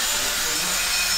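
A drill spinning into wood gives a steady, loud, broadband whirring grind with no pauses, close by and with no talk over it.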